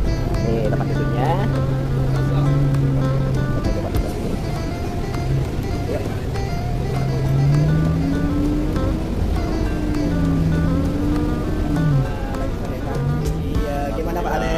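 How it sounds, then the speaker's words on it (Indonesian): Interior of a moving Tayo bus in Makkah, with a steady low engine and road rumble filling the cabin while passengers talk over it throughout. "ini adalah di dalam bis tayo ya"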